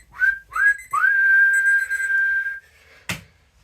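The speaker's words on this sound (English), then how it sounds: "Referee's got his whistle in his mouth" A referee's whistle ends a Bristol Rovers football match: two short blasts and then one long sustained blast, loud and close, followed by a brief sharp sound, with no talk.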